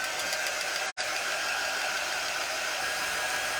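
A dryer blows over a fresh coat of nail polish, producing a loud, steady whooshing hum that cuts out for an instant before resuming unchanged.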